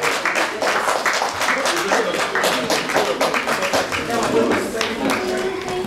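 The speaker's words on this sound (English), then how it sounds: "Please give them a round of applause" Sustained audience applause at a charity gala dinner in a London hotel ballroom, a dense wash of many hands clapping steadily and fairly loud throughout, with no gaps.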